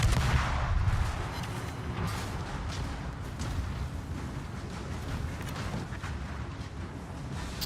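Heavy naval gunfire aimed at a battleship in a naval combat video game: dense, rumbling booms and blasts rolling together, loudest at the start, then a steady roar of distant shelling with no voices.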